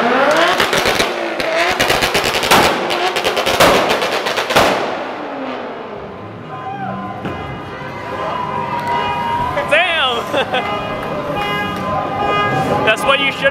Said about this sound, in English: Set off all the alarms.